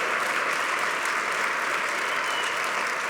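Steady, dense applause from a large audience at a municipal association address, filling the whole stretch evenly and loudly with no voices standing out.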